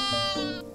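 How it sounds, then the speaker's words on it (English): A young lamb on a small farm gives one short, wavering bleat, close and clear, lasting under a second. "She's a sheep."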